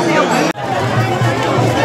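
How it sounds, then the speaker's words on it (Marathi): Dense crowd of devotees and pilgrims at the Pandharpur yatra, overlapping voices forming a loud, continuous babble close by, with one brief drop-out partway before the chatter resumes. "बघा मी मंडळी कशी गर्दी आहे भक्तजनांची"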